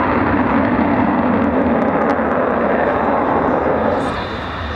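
An Avro Vulcan bomber flying at an air display roars loudly and steadily as a broad, continuous engine rumble, easing slightly in level toward the end.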